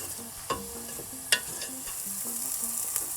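Chopped onions fry gently in a pot for red lentil soup, giving a steady, low sizzling hiss with a couple of sharp utensil taps.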